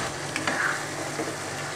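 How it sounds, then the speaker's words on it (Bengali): Deshi chicken frying in a pan as it is stirred for a bottle gourd curry, a steady close sizzle with a few brief scraping stir sounds near the middle, no voices. "তো এটাকে আমি এইভাবে 5 মিনিট একটু কষিয়ে নিব।"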